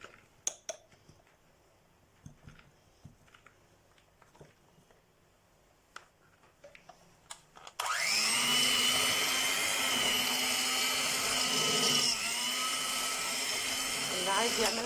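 An electric mixer beats ghee with sugar, switching on abruptly partway through and running as a loud, steady whine to the end. Before that come light clinks and taps.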